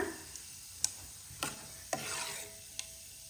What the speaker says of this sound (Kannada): ಕಡಲೆಬೇಳೆ ಹಾಕಿಬಿಟ್ಟು 1 ನಿಮಿಷ ಇದೊಂಚೂರು ಫ್ರೈ ಆಗೋಷ್ಟು ನಾವು ಇದನ್ನು ಬಿಡಬೇಕು.